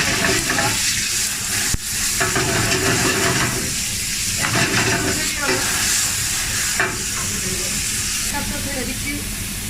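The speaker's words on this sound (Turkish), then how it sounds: "Tavamızı koyduk ısınıyor. İçine biraz böyle iki kaşık kadar zeytinyağımızı alıyoruz. Yağımızı kızdıralım." Olive oil sizzles and hisses steadily in a heating pan with occasional stirring scrapes, a continuous frying crackle throughout.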